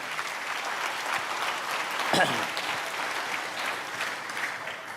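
A church congregation claps in steady, moderate applause at a distance during a sermon, with one faint voice briefly rising over the clapping.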